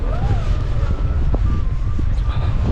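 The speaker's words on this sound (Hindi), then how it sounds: "बहुत ठंडी हवा चल रही है" Very cold wind blowing outdoors in Edinburgh buffets the microphone as a loud, steady, rumbling roar with constant low gusting and no pauses.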